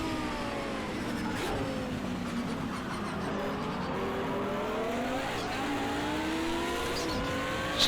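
A Nissan 300ZX race car engine in Project CARS 2 revs up and down through the gears, loud and close, with rising and falling engine pitch and brief tyre noise.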